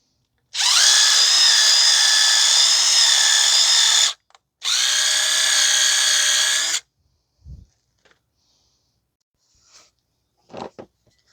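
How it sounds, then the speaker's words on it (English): Two long, close hissing bursts of aerosol brake cleaner sprayed while replacing the rear brakes of a 2012 Ford Fusion 2.5, the second shorter, followed by a few small clicks and knocks. "Spray some brake cleaner."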